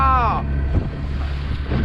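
A speedboat heads out to sea at night, its engine drone mixed with heavy wind rumble and rushing water, loud and continuous, with a brief high tonal sweep at the start.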